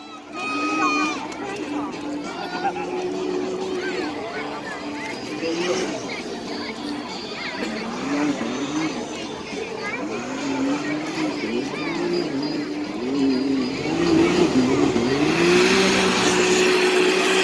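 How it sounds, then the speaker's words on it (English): A Can-Am off-road vehicle runs a lap at a monster truck show in Donnellson, Iowa, its engine droning and shifting pitch at a distance under steady crowd noise and close-by talk. "There goes Jason in that Can-Am."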